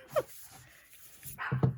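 Loud female dog barking downstairs inside a house, heard from upstairs as two short bursts of muffled barks with a room hum between them.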